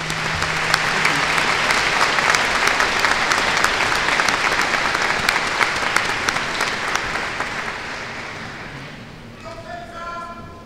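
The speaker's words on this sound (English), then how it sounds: "Let us applaud these new master's degree recipients." A commencement crowd at IUP's spring ceremony applauds the new master's degree recipients with loud, dense clapping that gradually fades over several seconds, ending with a voice starting to speak as it dies down.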